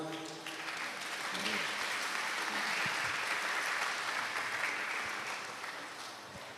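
Sustained applause from an audience at the Pohnpei Catholic High School 2024 graduation ceremony, a dense steady wash of clapping that swells and holds for several seconds before easing slightly.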